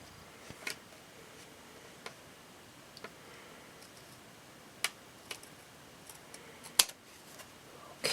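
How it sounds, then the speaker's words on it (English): Scissors snip through a card during papercraft, giving sparse, sharp clicks spaced a second or more apart in an otherwise quiet room. "Grab my scissors real quick and cut this off."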